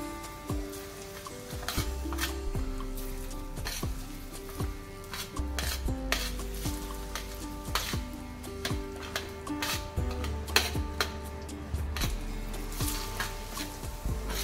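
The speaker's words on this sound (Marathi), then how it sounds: "आता आपल्याला यामध्ये थोडंसं तेल टाकायचं आहे आणि हे राई गोळे परतवून घ्यायचे" Mustard balls for a sweet-and-sour jaggery pickle fry in a little oil, heard as close, busy scraping and rasping from continuous stirring against the pan, with clattering knocks over a low sizzle and no speech.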